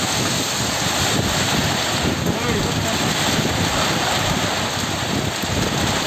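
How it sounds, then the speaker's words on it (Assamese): Strong wind blasts across the microphone outdoors, a loud, constant roaring rush with no break across the whole stretch. "পুৰা বতাহ"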